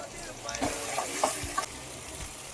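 Tomato pieces tossed into a pan of frying goat head curry and stirred, giving a close, steady sizzle with a few utensil scrapes and clinks, no talking.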